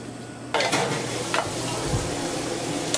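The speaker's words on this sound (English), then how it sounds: "dip them in flour and into a heated skillet, brown them on one side" Crab cakes dredged in flour brown in a heated skillet, giving a steady close sizzle that starts abruptly and runs throughout, with a few brief scraping stirs and light utensil clinks.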